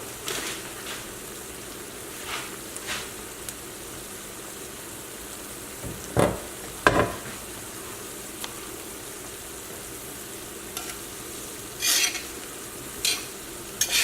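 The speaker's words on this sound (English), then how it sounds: "Just stir around. Use a tongs or a spoon, whichever you prefer." Chicken scaloppine fries in a pan while being stirred with tongs or a spoon, a constant low sizzle broken by a few sharp scraping clatters, close and without speech.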